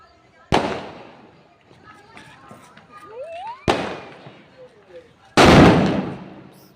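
Item bomb firecrackers bursting during Diwali festivities, three sharp, loud, close explosions spaced a few seconds apart with faint noises and voices between them.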